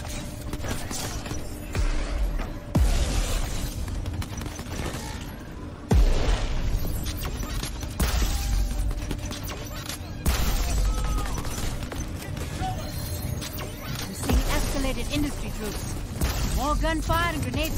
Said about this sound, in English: Gunfire and grenades coming your way.